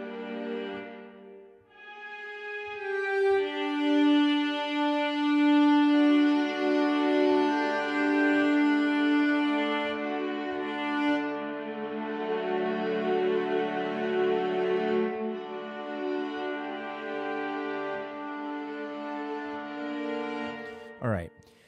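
Sustained bowed orchestral string samples play slow held notes with a lush, spacious big concert hall reverb tail, swelling and fading across the passage.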